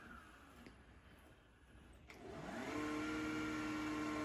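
An iRobot Roomba S9+ robot vacuum, freshly updated with new software, starts up after a few clicks and quickly ramps into a steady, close whirring drone that holds to the end.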